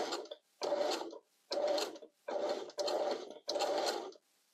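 A sewing machine stitches across a cord while a gathered summer skirt is being made, running in six short bursts of rapid needle clatter with brief pauses between them.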